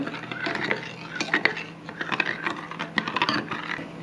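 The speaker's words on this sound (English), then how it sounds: "we'll just give that just a bit of a stir" A spoon stirs warmed milk in a pan on the stove, giving irregular close scraping and clinking taps with no talk.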